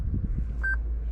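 Two short, clear electronic beeps from a Ghost 2 immobiliser alarm in a 2018 Lexus RC-300H, sounding after a PIN is entered, over a steady low background hum.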